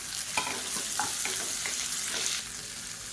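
Medium tomatoes, finely chopped, sizzle and fry with sautéed onions in a pan for a chutney served with idli and dosa. A steady close-up crackle is broken by a few scraping stirs, then the sizzle softens.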